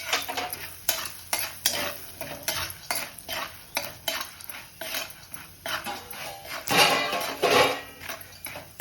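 Popcorn kernels tossed with salt and turmeric in a hot pan, a steady rhythmic scrape of a spoon against metal over a bright sizzle, growing louder near the end.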